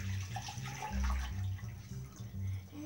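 Water pours and splashes as soaked sprouts are drained into a sink, an uneven run of trickling and gurgling with brief louder gushes, fairly quiet and close, with no speech.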